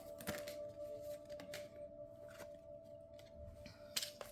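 Tarot cards are shuffled by hand in a quiet room, giving faint, crisp flicks and riffles in short bursts with brief pauses, close to the microphone.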